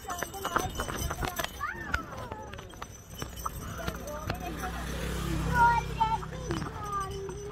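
A donkey's hooves clip-clop outdoors in a quick, uneven run of taps, with people talking close by over the steps.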